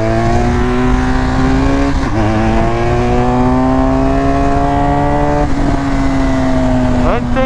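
A car accelerating close behind a BMW 1200 motorcycle on the road, a loud continuous engine drone rising and falling in pitch through gear changes, with wind noise throughout.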